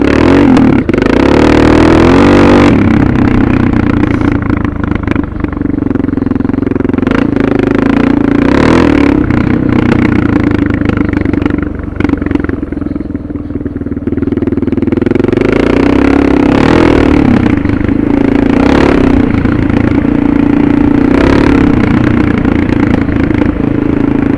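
Suzuki DR650 single-cylinder engine fitted with a Procycle jet kit, ridden in third gear on light throttle, a loud, close, steady thumping drone that rises and dips slightly with small throttle changes and occasional clatter.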